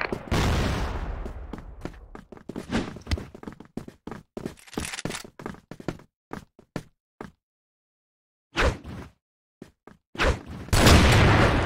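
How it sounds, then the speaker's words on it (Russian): Grenade thrown and exploding in the shooter game CrossFire on the Museum map, a loud burst at the start followed by a rapid series of sharp gunfire-like cracks and bangs, a gap of silence, then more blasts near the end. "Граната пошла."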